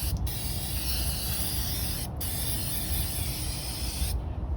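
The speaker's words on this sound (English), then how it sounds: "we gotta use the whole can of brake cleaner" Brake cleaner hisses steadily from an aerosol can over a 2010 Mitsubishi Galant engine during a valve cover job, a loud continuous spray with brief flickers in the jet.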